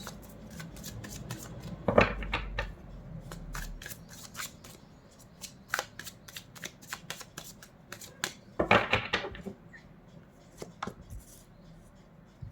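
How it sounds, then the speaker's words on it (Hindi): A deck of tarot cards being shuffled by hand: quick, crisp riffling bursts and card slaps repeat steadily at close range, with heavier flurries around the start and middle. "जब तक मैं कार्ड शफल कर रही हूँ।"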